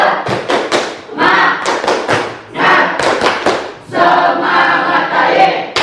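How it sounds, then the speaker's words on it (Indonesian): A class chants and claps a rhythmic 'tepuk semangat' cheer, with bursts of quick group claps and thumps alternating with loud chanted voices, all close and energetic. "Oke, tepuk semangat."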